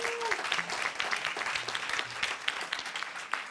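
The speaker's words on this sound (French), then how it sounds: "Il s'agit de Lucie Chaumette de France Télévisions, on peut l'applaudir" An audience applauds a journalist at a greenwashing quiz event, a steady patter of many hands clapping at moderate distance with some murmuring voices mixed in.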